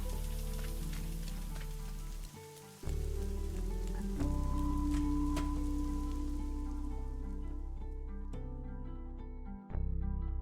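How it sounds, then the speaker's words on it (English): Steady cartoon rain falls alongside a running sprinkler, a continuous hissing patter under a tonal musical background, with no voices. "Why is the sprinkler on in the rain?"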